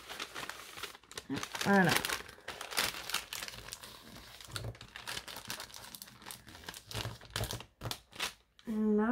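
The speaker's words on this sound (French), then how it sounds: "je me bats avec les petits rubans pour ne pas leur donner, pour ne pas les plier et leur donner de faux plis" Small ribbons crinkle and rustle as they are handled carefully to avoid creasing, a close, soft crackling running throughout, with someone speaking briefly in French.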